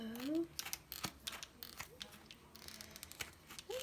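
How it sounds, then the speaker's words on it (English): Scissors snip carefully through a 3D peel-and-stick backsplash tile sheet, giving a few close, crisp cuts and crinkles with soft rustling between them. "I'm just going to cut it very carefully"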